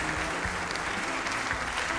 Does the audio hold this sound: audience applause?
yes